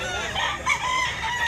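A rooster crows at a busy chicken market in Mantalungon, Cebu, one short call sounding at moderate distance over a faint crowd murmur.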